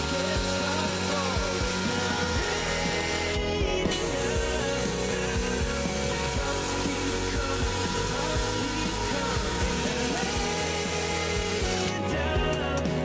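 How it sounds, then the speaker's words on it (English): A drill whirs continuously while a 240-grit abrasive pad sands an end-grain wooden bowl, a steady gritty hum with brief pauses in the high hiss. "now we're just going to sand to 240 grit here from Klingspor Abrasives"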